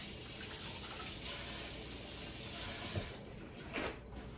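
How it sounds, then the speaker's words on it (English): Tap water runs steadily into a kitchen sink while a hand is rinsed, a continuous close hiss with a few brief splashes toward the end. "let me just rinse off my hand quick."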